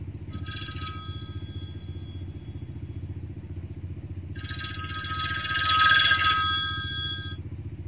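A telephone rings in two bursts, a short ring near the start and a longer one later, with a steady low motor-like hum running underneath the whole time.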